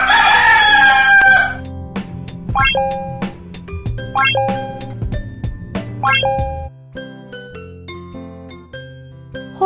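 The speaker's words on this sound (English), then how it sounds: "Rooster." A rooster crows loudly right at the start, followed by a run of bright chiming tones in a playful sequence.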